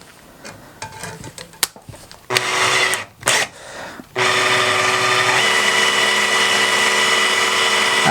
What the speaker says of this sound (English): Set up with the drill again.